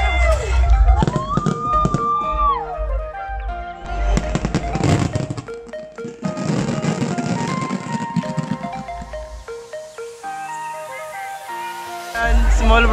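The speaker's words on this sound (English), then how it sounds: "Nag-uumpisa na po ang fireworks?" Fireworks display for Saudi National Day 2019, with loud broadband bursts and crackling pops repeating through the scene, mixed with music and crowd voices nearby.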